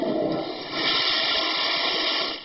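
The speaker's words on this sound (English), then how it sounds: "flushing old prescription pills down the toilet" A household toilet flushing up close, a loud rushing gush of water that swells after a brief start and holds steady before easing off, with no talk.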